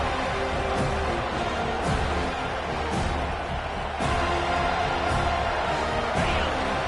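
A home stadium crowd in a Madden football video game roars steadily, a broad sustained swell of cheering with faint recurring thumps beneath it.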